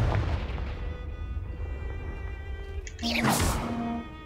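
A Confringo spell goes off in a Harry Potter video game. Game ambience rumbles along before a sudden booming burst with a bright crackling tail near the end.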